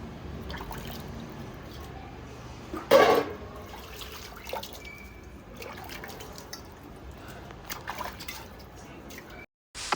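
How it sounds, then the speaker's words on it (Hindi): Water splashing and dripping as a gas cylinder is washed at home during cleaning before Chhath puja, a fairly soft, uneven trickle with one louder splash burst near the start and faint background noise. "यहाँ पे दीदी सिलेंडर धो रही थी।"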